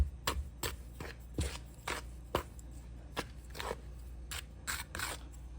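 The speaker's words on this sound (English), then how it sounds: "I just want to mix everything together" Seafood for fish and chips with fried frog legs and shrimp being tossed and mixed in a bowl, a quiet close series of irregular wet clicks, scrapes and taps repeating every half second or so.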